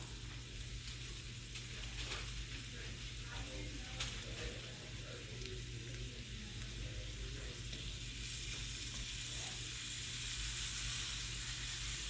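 Bread frying in a pan for toad-in-a-hole, a steady close sizzle holding at an even level throughout with a faint low hum beneath.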